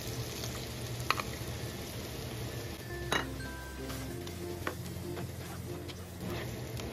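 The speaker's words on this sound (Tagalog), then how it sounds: "Medyo halu-haluin lang natin siya para maluto naman ng konti yung ating ham." Pre-cooked ham sizzles in a pan while a utensil stirs it, with a steady frying hiss, several sharp metallic clinks and scrapes against the pan, and one clear ring, all up close.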